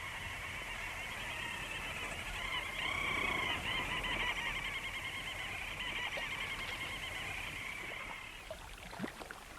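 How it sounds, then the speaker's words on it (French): Thousands of little auks, small seabirds, call from a Greenland island during a 1987 polar expedition. Their dense, continuous high-pitched chattering rises from many birds at once and runs steadily throughout without a break. "sur laquelle volent des milliers de mergules, ce sont des petits oiseaux marins"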